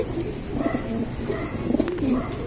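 Breeding pigeons coo close by in soft, repeated throaty murmurs over a steady rustling background.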